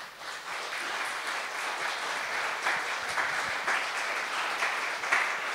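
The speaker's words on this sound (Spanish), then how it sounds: "¿Cuánto le da un aplauso a Jesús?" A church congregation at a Sunday general service applauds for Jesus, a steady wash of many hands clapping together, moderately distant and sustained throughout.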